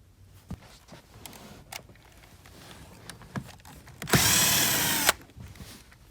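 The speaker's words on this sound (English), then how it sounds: "we're going to use a 7mm socket to go ahead and remove those two" A power tool with a 7mm socket spins bolts out on a Ford Fiesta, heard as one close, loud whirring burst of about a second, with faint clicks and handling noises before and after.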